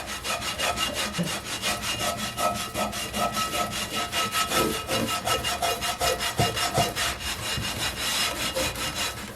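An old, rusty cast iron skillet being scrubbed by hand with rapid, even back-and-forth strokes, loud and close, continuing steadily with no talking.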